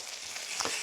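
Bread fries in a bacon-greased pan over a wood fire, giving a brief close, loud sizzle that swells slightly as the slice settles in.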